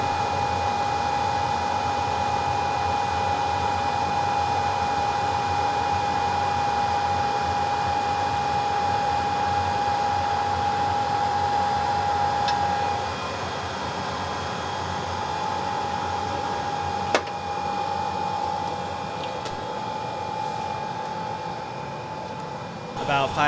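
A rework machine heats a Vizio M65-C1 TV circuit board for solder reflow, giving a steady, close airflow hiss with a faint constant tone through the first half and a brief click near the end.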